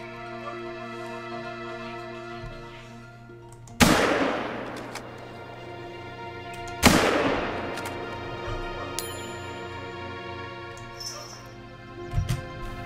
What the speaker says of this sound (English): Okay, now I shot Bambi.